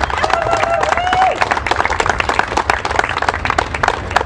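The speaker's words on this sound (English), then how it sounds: "please, round of applause" Loud crowd applause and some cheering at the Idaho Liberty Fest rally, with a brief shout or whistle early on and dense clapping throughout, a few voices mixed in.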